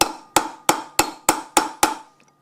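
A hammer strikes to crimp the edge of a nut into the groove of a Toyota Tundra/Tacoma driveshaft. Seven sharp, evenly spaced metallic blows ring close and loud, each decaying before the next.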